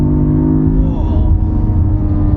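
A 2023 Cadillac CT4-V Blackwing's engine revs hard while driving, a loud, deep, steady drone heard from inside the cabin, holding and swelling without speech over it.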